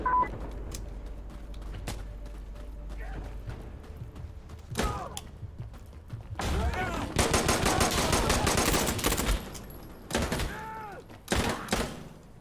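Rapid bursts of automatic gunfire and single shots in a multiplayer shooter video game, loud and close, with thuds in between and a player shouting over the shooting.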